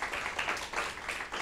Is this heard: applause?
yes